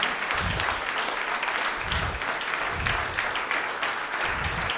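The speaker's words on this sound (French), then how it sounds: "je voudrais que vous lui fassiez un tonnerre d'applaudissements." Audience applause welcomes speaker Laurent Obert at the Université des vendanges Nouvelle Aquitaine 2023, a steady, fairly loud crowd clapping with a few low thumps, with no voices over it.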